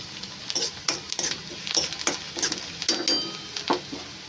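Onion fries in a pan for a village-style wild takla greens dish, a continuous close sizzle with rhythmic spoon-against-pan stirring strokes and light clinks roughly every half second.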